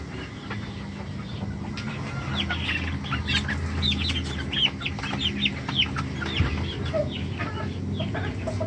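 Several hens clucking and murmuring close by, with short repeated calls over a steady low background hum.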